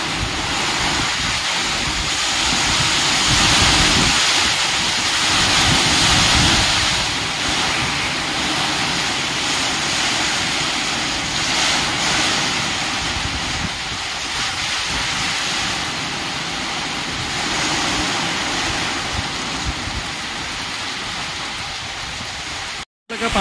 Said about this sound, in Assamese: বতাহ মাৰিছে কেনেকৈ, বৰষুণ উৰুৱাই লৈ গুচি গৈছে।